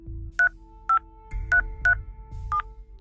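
Telephone keypad DTMF tones punched in to enter a PIN on a calling-card service line: five short, clear beeps at uneven intervals over a low background hum, with no talking.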